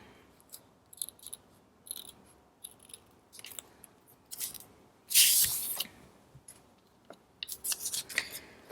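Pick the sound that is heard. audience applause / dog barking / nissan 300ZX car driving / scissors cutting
scissors cutting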